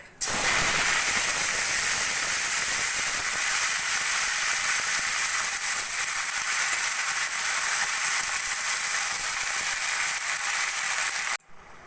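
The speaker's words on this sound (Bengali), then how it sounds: "ফোড়ন সোনালি হলে দিয়ে দেবো আগে থেকে কেটে রাখা শাক" Chopped red amaranth greens hit hot oil already tempered with black cumin and dried red chillies, setting off a loud, dense, steady sizzle and hiss that holds for several seconds close up, then cuts off.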